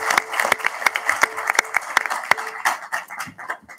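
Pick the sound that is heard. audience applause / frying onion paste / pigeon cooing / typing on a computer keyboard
audience applause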